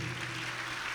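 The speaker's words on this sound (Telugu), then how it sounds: "చప్పట్లు కొట్టి దేవుడు మహిమపరుద్దాం గట్టిగా" A church congregation claps hands together during a Telugu worship sermon, a brief, steady burst of dense clapping that cuts off sharply at the end.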